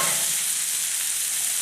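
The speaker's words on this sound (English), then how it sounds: "that's the sound you want to hear, folks, that nice sizzle" Onions hit hot oil in a pan and sizzle loudly and continuously, a dense, bright hiss up close with no talking.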